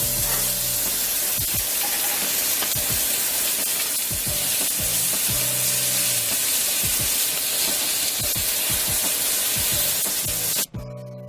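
Seasoned vegetables fry in a lightly greased hot pan, giving a loud, steady sizzle with intermittent crackles that continue almost unbroken before stopping abruptly near the end.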